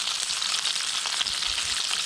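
Grayling fish frying in a pan at a campsite on a kayak trip, giving a steady, loud, close hiss and sizzle that runs without a break.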